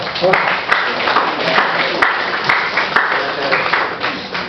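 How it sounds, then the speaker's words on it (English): An audience at a medical lecture claps for the organizing committee, a dense patter of applause lasting several seconds with a few sharp individual claps standing out. "So congratulations to the organizing committee. Give them a clap."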